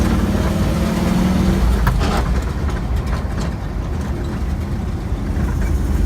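A 1978 Jeep CJ5 engine pulls in first gear, a loud, steady low rumble of the motor and drivetrain running close by with no speech over it.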